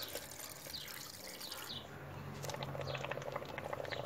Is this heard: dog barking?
no